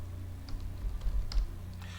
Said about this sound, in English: I will come to this search box and type ebook